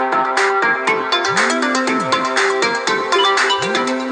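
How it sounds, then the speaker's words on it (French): A phone ringtone plays loudly and steadily as a repeating electronic melody with rising tones, and no one speaks over it. "Je suis désolé de ce téléphone qui sonne"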